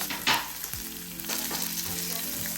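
Carrots and green peas with ginger and onion sizzle steadily in a hot pan, with a few stirring knocks over the continuous frying hiss and no voices.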